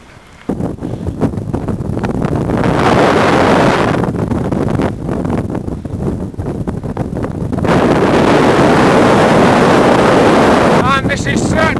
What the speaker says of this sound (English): And this is certainly a challenge in this wind.